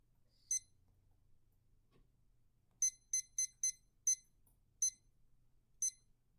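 A timer alarm sounds in a quiet room: a single beep, then after a pause a burst of short, evenly spaced high electronic beeps, with a few more spaced out at the end, clear and close with no talking.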